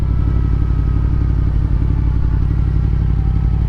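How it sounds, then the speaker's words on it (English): A 2023 Yamaha MT-10 motorcycle ridden along a walking path, its engine giving a loud, even, throbbing rumble with a fast pulsing beat close by throughout. "I'm just riding my bike down it like a hooligan."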